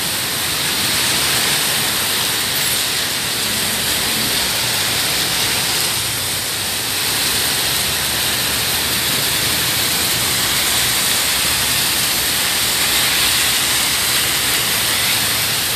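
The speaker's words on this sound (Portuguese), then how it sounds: "Chuva, uma chuva bem, muito forte aqui em Maringá" Heavy rain and strong wind in Maringá produce a loud, continuous broadband roar of falling water with slight surges, unbroken and close for the whole stretch.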